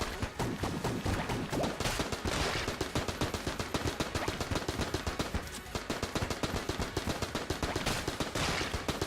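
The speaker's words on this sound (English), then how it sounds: "For just outputting bullets, you gotta like the AK." An AK rifle firing in the Enter the Gungeon video game, a loud, continuous rapid stream of gunshots in a fast steady rhythm that runs through the whole stretch with only a brief dip.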